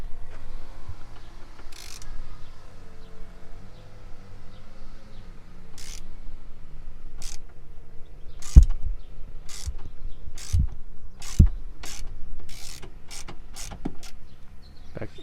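Sharp, spaced ratchet clicks near at hand, speeding up toward the end, as a Torx 45 seat bolt is backed out on a Dodge RAM 1500, over a low background hum with no talking.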